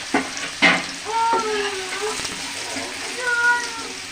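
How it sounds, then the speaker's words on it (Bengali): Radish and potato pieces frying in hot oil, a continuous close sizzle with a couple of sharp clinks from stirring, under faint intermittent talk. "লাল লাল করে মূলো আর আলু ভাজা হয়ে গেছে"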